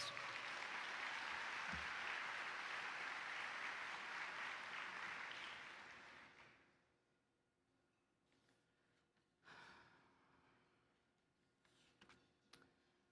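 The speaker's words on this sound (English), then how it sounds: "Let's give another round of applause." Audience applause fills a room at a children's awards luncheon, a loud, steady round of clapping that dies away after about six seconds into quiet, broken by a couple of brief soft rustles.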